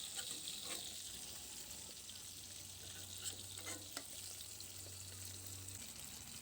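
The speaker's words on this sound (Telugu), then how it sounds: "ఇప్పుడు మిగతా ముక్కల్ని కూడా వేసుకుని ఇలాగే వేయించుకుని" Fish pieces frying in a pan, a quiet, steady sizzle with occasional soft stirring scrapes, no talk.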